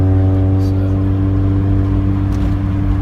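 A 1988 Honda Civic wagon on coilover suspension cruises at nearly 60 mph, its engine a steady close droning hum with tonal harmonics and road rumble running evenly throughout.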